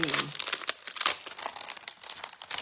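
Crinkling and tearing of card kit packaging as it is opened, a close, steady rustle of plastic and paper with small snaps, under quiet background speech.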